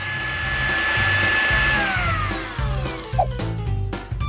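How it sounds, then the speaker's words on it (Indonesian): An electric blender grinds black bread into fine crumbs, a loud high whirring motor whose pitch sweeps downward, followed by rattling bursts as the bread pieces break up. "roti hitam harus dikirim ke blender untuk diparut dengan remahan-remahan kecil"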